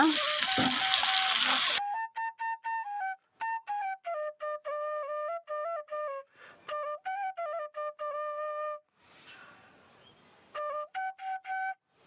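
Ginger and garlic paste sizzles loudly in a pan of beef cooked over a clay stove, a hissing burst of frying for the first couple of seconds before a melodic tune takes over.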